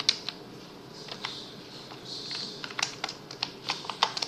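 Keys clatter on a computer keyboard in uneven bursts of close, crisp clicks that grow busier toward the end, with no one speaking.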